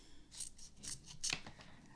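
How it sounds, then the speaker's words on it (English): Scissors snip through a dry adhesive sheet for papercraft, giving a quick run of several crisp, close cuts with brief pauses between them and no talking. "I'm just going to cut off, so you can cut this into any sizes you like"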